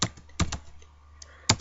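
A few separate keystrokes on a computer keyboard while a command is typed in a Java SQLite tutorial, close and clear, with short pauses between the taps.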